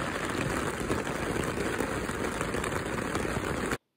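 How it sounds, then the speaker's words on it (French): Steady rain pours outdoors during a championship event, a dense continuous hiss of drops on surfaces heard alone at constant loudness until it cuts off abruptly just before the end. "au championnat, où la pluie s'est invitée."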